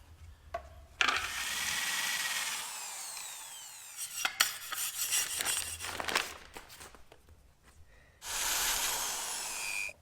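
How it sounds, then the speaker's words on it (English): A power drill bores pop rivets out of a small bracket on a Land Rover Defender, with one long drilling burst, then clattering and scraping, then a second shorter burst near the end. "I'll drill these pop rivets out"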